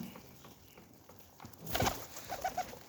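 Pigeons kept in a loft or coop give a brief muffled coo amid light rustling. The sound is fairly quiet and swells for a moment before fading into soft background noise.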